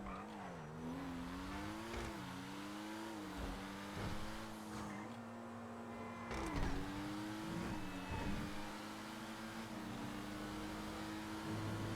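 In GTA 5 Online, a car speeds along a straight road, its engine droning loudly and climbing in pitch through repeated gear shifts, with brief tire squeals and thumps, close up and without speech.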